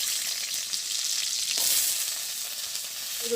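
Whole garlic cloves sizzle steadily in hot oil in a village kitchen, a continuous close crackling hiss with no talking.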